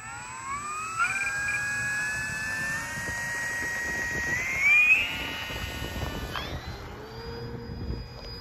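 An electric FMS P-47 Razorback model plane with a 1500 mm wingspan takes off from a runway, its motor whining at a high pitch that climbs as it speeds up, heard from a moderate distance.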